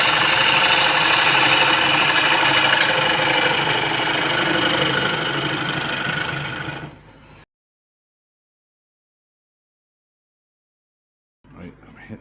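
Woodturning gouge working a fissured white oak yarn bowl blank on a lathe, the blade dulled by resin sand, a loud continuous rough scraping roar that stops abruptly, then silence before it briefly resumes.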